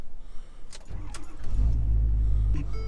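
A Ford 6.7 liter Super Duty diesel engine cranks and starts about a second in, then settles into a loud, steady low idle that continues through the rest, with a few faint clicks and jangles near the start.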